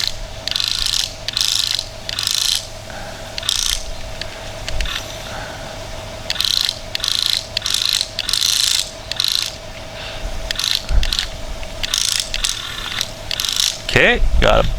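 Huina 1/12 scale RC excavator arm scooping dirt, its servos and gears whirring in repeated short bursts with ratcheting mechanical clicks, close and steady, ending with a brief louder sweep.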